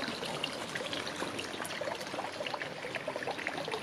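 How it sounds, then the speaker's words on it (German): Water bubbling from a garden millstone fountain and running into a stream in a private garden park, a soft continuous trickling and splashing, quiet and steady with no talk. "aus dem sprudelt Wasser."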